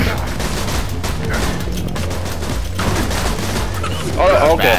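Sustained gunfire from Borderlands 2 fills the whole stretch, a dense, loud barrage of rapid shots with heavy low thump, rising to a harsher burst at the very end.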